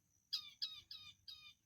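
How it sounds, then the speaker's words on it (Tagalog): A small bird gives four quick, shrill squawking calls in an evenly spaced series at Malampaya Inner Sound, fairly close and otherwise quiet. "Ay, may ibon, guys."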